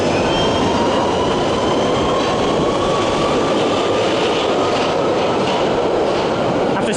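A London Underground Central Line train rumbles steadily with broadband rail noise, carrying faint high wheel squeal and tonal whine throughout, continuous and fairly loud with no talk.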